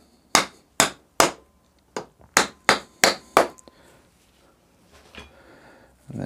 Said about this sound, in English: get your mallet, and then you're just going to tap on the foot bolts to release the rods inside the lower legs